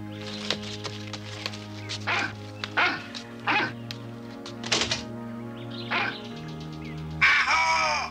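Dog barking in an animated cartoon, a string of sharp separate barks at an uneven pace, close and fairly loud, with a few short yips and thumps between them.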